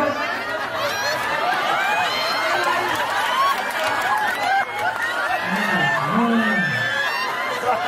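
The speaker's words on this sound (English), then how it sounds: "You got a big crowd out here" A big crowd of onlookers gathered outdoors around a salmon-filleting and sushi demonstration, filling the air with steady overlapping chatter, whoops and laughter, with voices talking close by throughout.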